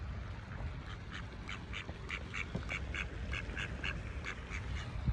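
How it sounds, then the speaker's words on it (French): Ducks quacking repeatedly in a steady run of short calls over a low rumble of background noise, moderately close, with no voices. "Il y a des canards qui dorment."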